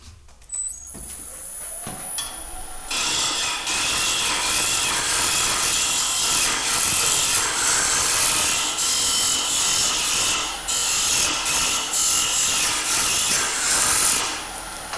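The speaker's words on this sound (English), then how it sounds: "we're just going to use the 8mm carbide tool again" An 8mm carbide tool scrapes the inside of a wooden box spinning on a lathe, a close, steady rasping hiss that starts after a brief quiet moment and continues with slight dips.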